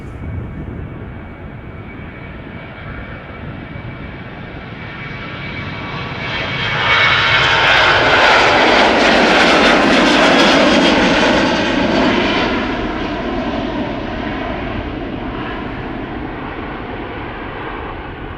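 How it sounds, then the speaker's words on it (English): A 23-year-old KLM Boeing 737-800 jet airliner bound for Copenhagen, its engines roaring loud and steady, swelling to a peak as it passes close, then slowly fading. "KLM flight 1127 going to Copenhagen, a 737-800, 23 years old."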